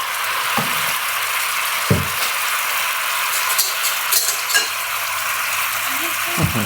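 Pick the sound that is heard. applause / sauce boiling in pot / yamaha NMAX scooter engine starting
sauce boiling in pot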